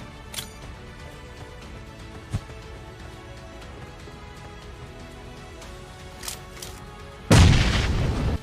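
Bomb exploding in a video game, a single loud booming burst near the end after quiet game ambience with a few faint thuds, the roar decaying over about a second.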